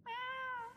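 A cat in the anime Unnamed Memory gives a single clear, drawn-out meow, close and loud, lasting under a second against a quiet background.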